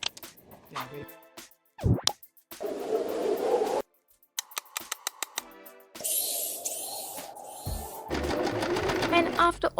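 A sewing machine stitches the fabric of a skirt, its motor whirring in several runs of rapid needle chatter broken by stops and short pauses, close and fairly loud, with speech heard alongside.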